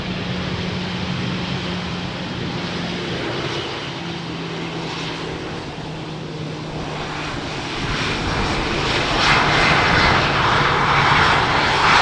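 Airliner in special livery at Amsterdam Schiphol Airport, runway 18R, a broad continuous engine roar heard from nearby that swells louder toward the end, with no voices.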